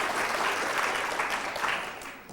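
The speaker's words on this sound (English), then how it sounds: "let's give the people here a round of applause for helping out." An audience claps steadily at a skeptics' lecture on psychics, a dense wash of applause from many hands that tapers slightly toward the end.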